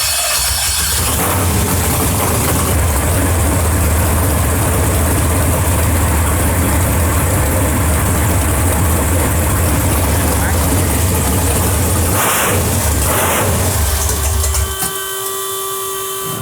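A 632ci big block Chevy nitrous engine idles loud and steady with a heavy low rumble and hiss for about fourteen seconds before it abruptly cuts out.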